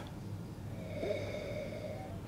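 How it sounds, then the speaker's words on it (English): A long nasal sniff of wine from a glass, a soft breathy inhalation close to the microphone over faint room hiss. "So, swirl the wine around the glass, that releases the aromas, and then take a good long sniff."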